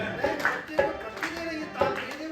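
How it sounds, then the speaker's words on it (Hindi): Audience applause at a Hindi poetry recital event, a brief burst of clapping with uneven, scattered hand claps that rise and fall, moderately close and without talk over it. "एक बार ताली बजाए"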